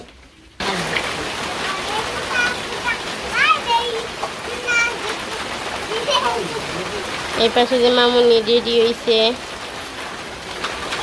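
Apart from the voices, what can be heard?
rain falling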